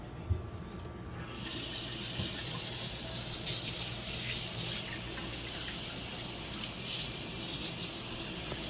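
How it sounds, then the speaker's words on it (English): A kitchen tap runs steadily as someone washes their hands, a close, even rush of water that starts after a brief clink and continues unbroken to the end. "as Tiffany tries to wash her hands"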